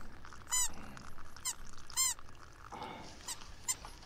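A dog in the video game Eco gives a few short, high squeaks and yelps in bursts over a quiet background.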